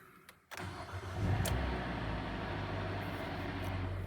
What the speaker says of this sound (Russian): первый запуск автомобиля